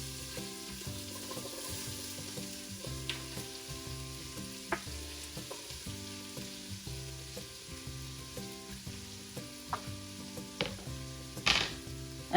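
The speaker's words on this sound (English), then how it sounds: "to the bacon grease, we're gonna add the celery and the onion that we chopped." Chopped celery and onion frying in bacon grease in a pot for clam chowder, a steady close sizzle and crackle with occasional stirring clatter, no voices.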